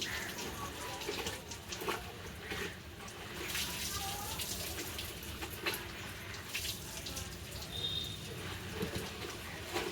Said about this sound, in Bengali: এখন আমি জল দিয়ে ভালো করে ধুয়ে নিচ্ছি